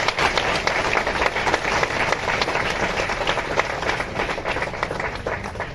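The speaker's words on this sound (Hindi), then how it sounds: "एक बार फिर से हम अपने अतिथियों के लिए जोरदार ताली बजा करके उनका स्वागत करें।" At a Christmas gathering, an audience gives the guests a welcoming round of applause, many hands clapping loudly and steadily, with a dense crowd patter that never lets up.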